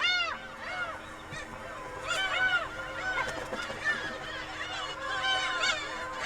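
Gulls calling at a nesting colony on an island, many overlapping honking, wailing cries near and far, a continuous noisy chorus.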